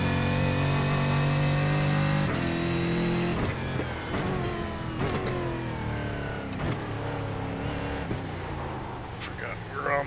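Stockcar Brasil race car from iRacing revving hard through gear changes, a loud steady engine drone with rising and dropping pitch sweeps as it shifts and brakes, a voice talking over it.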